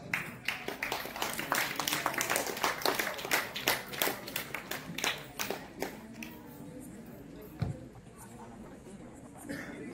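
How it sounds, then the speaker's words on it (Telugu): An audience at a quiz competition breaks into a burst of clapping that holds strong for several seconds, then thins and fades out. "క్లాప్స్."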